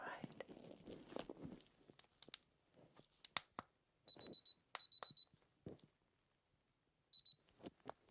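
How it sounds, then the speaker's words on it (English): A medical thermometer used during an ear exam emits three short, bright electronic beep bursts, the first two close together and a third after a pause, over quiet rustling and soft handling sounds. "You'll hear a couple of beeps"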